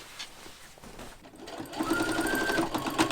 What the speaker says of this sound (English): Now we have to see how much easier it is when I'm sewing.